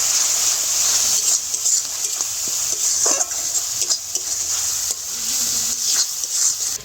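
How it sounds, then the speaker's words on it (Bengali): Ground spices (coriander, cumin, chilli and turmeric powders) are stirred together in a pan for a rupchanda fish curry, giving a steady frying hiss with scattered scrapes and light utensil knocks throughout. "এইবারে মশলাগুলো ভালো করে মিশিয়ে নেব।"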